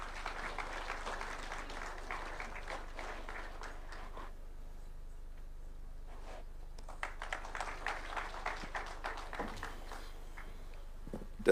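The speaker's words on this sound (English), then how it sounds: "A round of applause, please." An audience at the Katiba Day symposium at KICC applauds in two moderate bursts of scattered clapping separated by a brief lull, heard from within a large hall.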